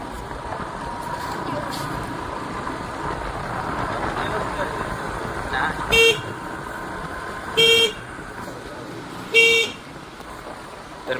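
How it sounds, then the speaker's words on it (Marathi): A vehicle arrives at a Konkan village Holi gathering with its engine running steadily. Three short horn honks sound near the end, evenly spaced and loud over a busy outdoor background. "आपली गाडी आलेली आहे."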